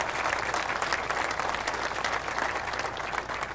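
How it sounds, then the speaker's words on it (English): Audience at a Buffalo Bills stadium groundbreaking ceremony claps in a dense, steady round of applause that holds at an even level throughout, with no voices on top. "let's give a round of applause"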